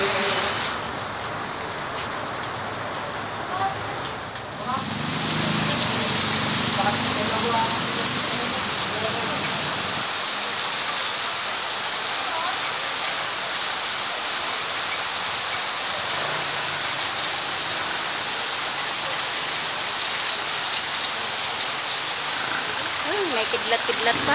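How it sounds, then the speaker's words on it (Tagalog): Heavy rain pours steadily with no storm, a dense continuous hiss of drops drumming on surfaces around a police station, with voices talking faintly beneath it. "walang bagyo pero grabe ang lakas ng ulan."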